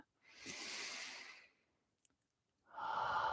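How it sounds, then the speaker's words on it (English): A deep, clearing breath during a Kali meditation: a long, airy inhale swells and fades. A short silence and a small click follow, then a strong, breathy exhale begins. The breathing is close and alone, with no talk. "take a deep and clearing breath"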